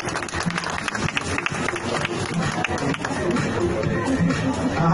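Steady crowd applause at a plus-size fashion show, a dense wash of clapping with babble and voices mixed in, holding at a constant level throughout.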